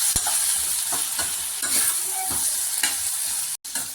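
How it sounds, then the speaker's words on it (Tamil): Onions and dried red chillies sizzle in a pan for lemon rice while a spoon stirs them in repeated scraping strokes. A sharp tap sounds near the start and the noise cuts out briefly near the end. No one talks. "இதை மிக்ஸ் பண்ணி விட்டுருவோம். இப்போ பெரிய வெங்காயம் வரமிளகா அப்படி சேர்த்துக்கலாம்"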